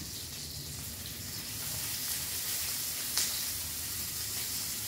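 Garlic sautéing in a pan, a steady, close frying sizzle that runs on without pause and grows slightly louder partway through, with no voices over it.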